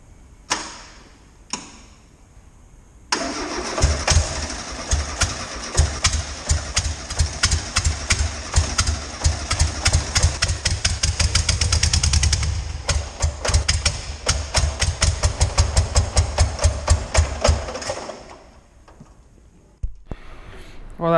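A classic VW Beetle engine run without its body: two short cranks, then it catches and chatters unevenly at close range with rapid ticking pulses, revving and stumbling for about fifteen seconds before dying out.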